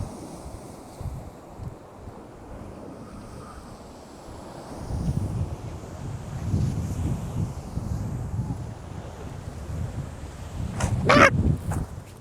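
Wind blows outdoors near a bluff, a low, rushing rumble buffeting the microphone, building in gusts toward the end, with no voices.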